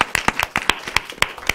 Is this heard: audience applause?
yes